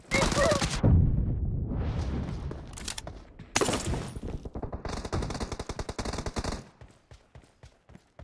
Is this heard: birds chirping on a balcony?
no